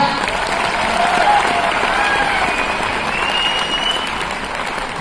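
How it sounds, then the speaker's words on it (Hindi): Loud, sustained applause from an audience at a Mi Lifestyle business program in Nagpur, dense clapping that holds steady throughout, with a voice rising briefly over it. "सर के लिए जोरदार तालियां।"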